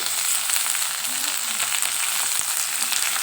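Chilli, garlic, onion and tomato fry in oil in a pan, giving a dense, continuous close sizzle with no pauses.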